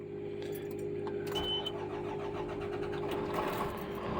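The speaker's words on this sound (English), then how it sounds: "I'm going to go ahead and start the engine so you can hear it run." A 2000 Odessa Overland Lorado motorhome engine cranks and catches, then settles into a steady low idle rumble, heard from nearby with no talking.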